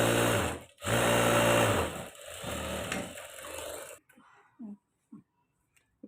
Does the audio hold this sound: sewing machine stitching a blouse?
yes